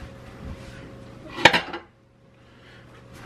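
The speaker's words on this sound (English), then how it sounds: "We're going to get it into a dish that has been oiled and get it covered" A Dutch oven being oiled and readied for rising bread dough gives a sharp metallic clank and a short rattle of cookware, one loud knock with a brief follow-up, alone in a quiet kitchen.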